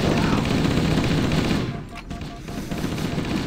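Sustained automatic assault rifle fire in the Halo video game, a dense continuous rattle of rapid shots that briefly thins out midway before resuming, loud and close in the mix.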